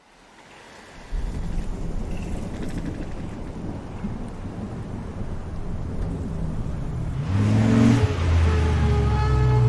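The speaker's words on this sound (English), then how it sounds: "Thanks for the ride, Chloe." Car driving in the video game Life is Strange: a steady low engine rumble mixed with rain-like hiss and thunderous roll that swells toward the end, where a voice briefly speaks over it.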